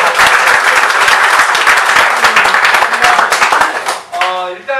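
A dense round of audience applause at a business chamber launch event, loud and close, with many hands clapping steadily before fading as a voice begins speaking.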